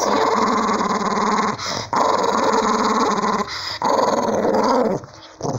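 A dog growls steadily and loudly while being given a bath, a close, sustained rumbling snarl broken by a few brief pauses and splashy shifts in the water.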